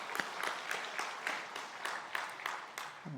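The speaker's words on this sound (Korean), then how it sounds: "박수를 한번 같이." Church congregation applauding together at a Sunday evening service, a soft, fairly distant burst of clapping with rhythmic, almost unison claps.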